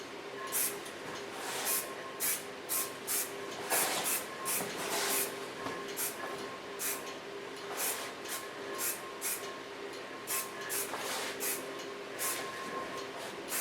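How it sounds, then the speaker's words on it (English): Soft hairspray misting onto styled hair in short repeated bursts, a steady hissing spray pulsing at close range with no talking. "Take a soft hairspray."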